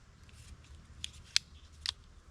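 Three quick, crisp snips of small Leatherman multitool scissors cutting, spaced apart over a quiet low background hum.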